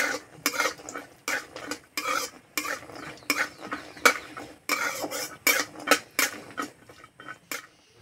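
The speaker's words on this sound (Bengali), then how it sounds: "তেলে দেবো খেসারির ডাল, আর দেবো কাঁচা বাদাম। বাদামটা একটু ভালো করে ভেজে নেব।" Khesari dal and raw peanuts fry in oil while a utensil stirs them, giving a rapid series of close, loud scraping and clattering strokes over a light sizzle, with no speech.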